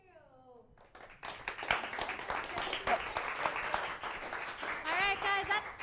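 Audience applause for three presenters at the close of a freelancing business program, a dense, fairly loud burst of clapping that builds after a quiet start and continues steadily, with voices and a few cheers mixed in.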